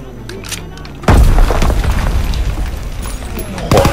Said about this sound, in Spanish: Joder, tiro la granada y no muere